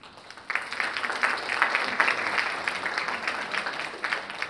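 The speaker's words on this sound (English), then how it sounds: "Students, clap for our teachers" Students at a high school graduation ceremony applaud their teachers, a steady wash of clapping from a large crowd that holds at an even level for several seconds.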